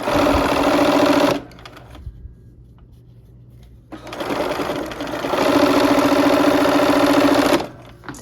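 A sewing machine stitches quilt block seams in two loud, steady runs of rapid mechanical whirring, separated by a quieter pause with faint handling.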